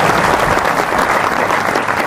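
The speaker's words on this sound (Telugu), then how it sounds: "గట్టిగా దేవునికి చప్పట్లు కొట్టండి." A congregation at a church sermon claps loudly and continuously in a dense, even roar of many hands. The clapping is close and full for the whole stretch, with no voices standing out.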